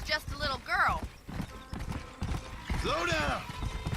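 Horse hooves clip-clop at a steady walking rhythm in Red Dead Redemption, with a horse whinnying and gear creaking, while voices talk over the hoofbeats.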